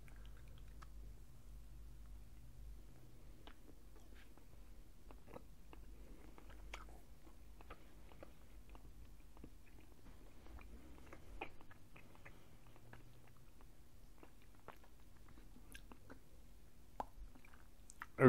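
Soft, faint chewing of a caramel candy bar with dentures, with small wet clicks and sticky smacks repeating irregularly throughout, close to the mouth and without talk.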